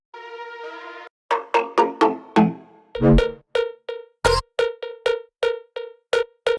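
A bright layered synth lead in a tech house track plays a melody of short plucked, bell-like notes, first a sustained chord then rhythmic staccato hits with a noisy burst midway, no voices.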